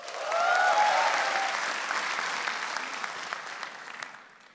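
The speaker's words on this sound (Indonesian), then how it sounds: "Beri tepuk tangan yang paling meriah" A stand-up comedy audience applauds loudly, the clapping swelling quickly and then slowly thinning out over several seconds.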